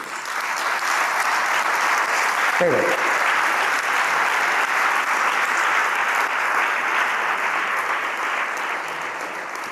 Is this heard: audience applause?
yes